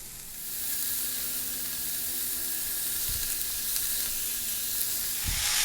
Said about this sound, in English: We'll continue to chop up the ground beef till it's a nice mince and brown.